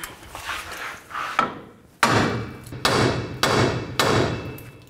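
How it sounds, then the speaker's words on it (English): A hammer strikes a steel lower ball joint on a 2007-2014 GMC Sierra 3500 HD several times at a steady pace, each blow sharp and ringing, close up after some lighter scraping. "carefully take a hammer and just give it a tap right there"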